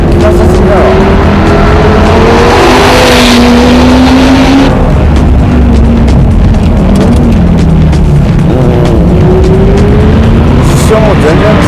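A Lamborghini Murcielago sports car roars at full throttle on a track, its engine note rising and falling through gear changes, very loud and close, with voices talking over it.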